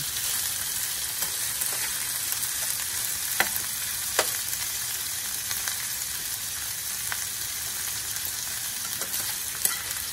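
Shrimp with string beans stir-fry in a pan with a steady, even sizzle, punctuated by a few sharp scrapes and clinks from stirring, close and without talk.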